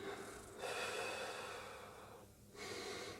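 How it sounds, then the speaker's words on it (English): Close, deep diaphragmatic breathing from the belly during meditation, slow audible inhales and exhales through the nose, faint and alone. "Deep diaphragmatic breaths coming from the belly, pulling air into the bottom of the lungs."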